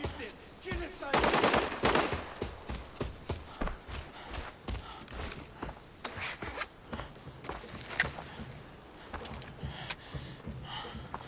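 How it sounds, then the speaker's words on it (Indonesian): Suppressed gunfire in the shooter game Arena Breakout, muffled silenced shots from another player inside a building, coming in quick bursts and single pops mixed with footsteps and movement noise. "Ternyata udah ada player lain di dalam, dia pakai senjata dengan peredam"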